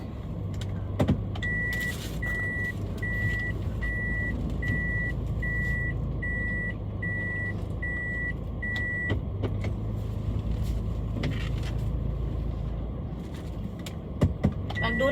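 Car backing up in a tight parking area, with a steady string of evenly spaced reversing beeps over a low idling engine, followed by a few clicks and clunks of the vehicle.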